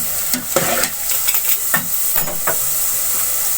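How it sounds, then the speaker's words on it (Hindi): Chopped onion browning in a frying pan for an aloo shimla mirch sabzi, a steady bright sizzle with several short scraping stirs of a spatula, close and continuous. "अब इस प्याज को मैं थोड़ी देर ब्राउन कर लूँगी"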